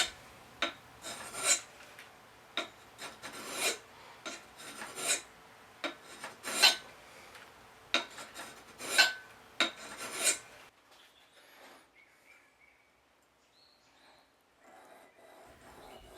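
Hand sharpening of a wooden thread-cutting tool held in a vise, a steady series of about ten rasping file strokes for roughly ten seconds, then quiet with faint handling noises.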